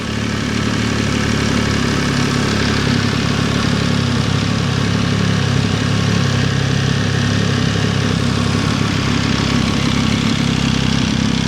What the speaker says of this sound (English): Got that lovely triple noise that they make.